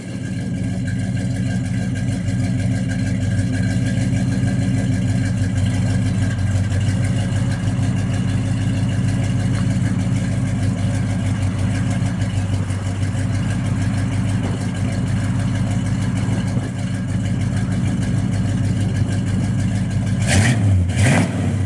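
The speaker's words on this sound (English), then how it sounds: "Sounds real good off the exhaust in the back. A little bit of a cam in it." A 1969 Chevrolet Chevelle SS 396 V8 rumbles close by with a lumpy, loping cammed idle, rising briefly in a couple of throttle blips, then revving sharply near the end.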